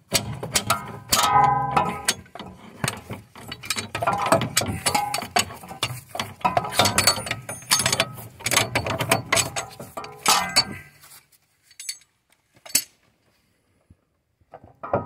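A hand ratchet clicks rapidly in bursts while loosening fasteners to remove the front driver-side CV axle on a 2009–2017 Chevy Equinox, close and loud with metallic clanks, falling mostly silent after about eleven seconds.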